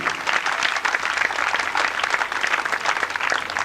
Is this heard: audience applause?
yes